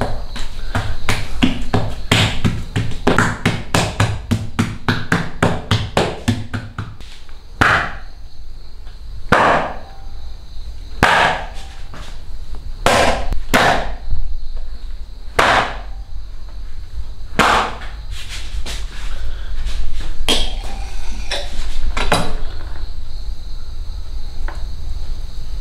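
Parotta dough is beaten and slapped by hand on a kitchen surface: sharp loud smacks come in a fast run at first, then more slowly and spaced out, over a steady background.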